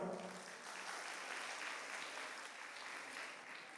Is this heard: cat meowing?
no